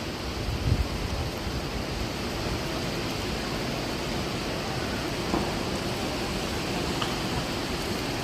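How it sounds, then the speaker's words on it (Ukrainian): Steady heavy rain pours at a railway station in Lviv in a constant hiss, dense and unbroken, with a faint distant clank now and then. "І страшенний дощ."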